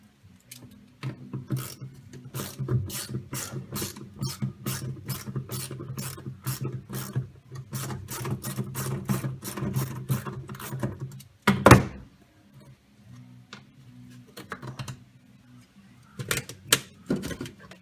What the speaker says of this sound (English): we're just going to take a 10 millimeter socket, remove that screw so we can get that piece out of there